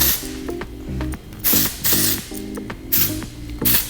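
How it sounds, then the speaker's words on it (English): Several short hissing bursts of texture spray sprayed on hair, each a quick puff, repeated at uneven intervals over a steady low background sound. "we'll just end by like spraying a little bit of texture spray"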